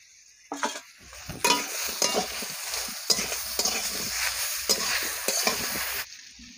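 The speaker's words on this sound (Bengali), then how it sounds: "আলু দিয়ে আরো কিছুক্ষণ আমি নাড়ব" Potatoes frying in a pan are stirred with a metal spoon, a loud crackling sizzle broken by repeated scraping strokes against the pan, stopping abruptly near the end.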